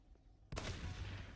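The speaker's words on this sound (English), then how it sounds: "look at that distance I'm getting with a shotgun" A shotgun fires at zombies in a game, one loud, sharp blast that bursts in after near-silence and rings out, with a second hit starting at the very end.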